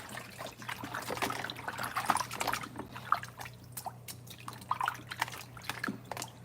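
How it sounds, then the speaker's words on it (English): Water draining off rinsed raw chicken wings in a kitchen: a soft, steady trickle with scattered drips close by, under a low constant hum, no talk. "And I'm just going to let all that water drain off."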